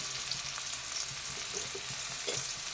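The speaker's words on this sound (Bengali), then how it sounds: "এই করলাগুলোকে একটু লাল লাল করে ভেজে নিচ্ছি।" Sliced bitter gourd frying in hot oil in a pan, browning to a reddish colour for a pumpkin shukto; a steady, soft sizzle with occasional light stirring clinks, continuous and close.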